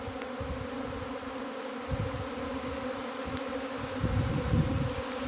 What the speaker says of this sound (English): Can you see how dense the air is? With bees.